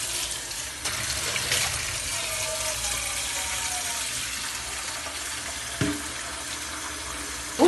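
Water is poured out in a steady, continuous stream, with an even splashing wash close by and a brief knock near the end.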